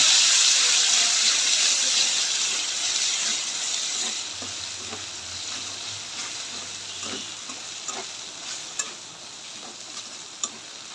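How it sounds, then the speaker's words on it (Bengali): Spice masala of ginger, sesame paste, cashew paste and green chilli paste frying in a pan while being stirred, giving a steady close sizzle with soft scraping strokes that slowly eases in level. "মশলাটা একটু ভালো করে কষাই নেব।"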